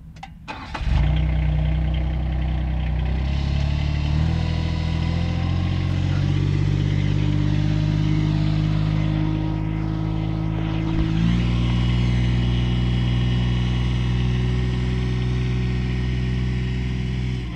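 A tractor pulls a GGT 5-foot arena conditioner around, its engine droning loud and close at a steady mid pitch with slight shifts in load, no voices over it.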